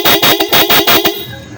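A freshly wired vehicle horn blares in a rapid run of about six short, loud toots, then cuts off and falls quiet.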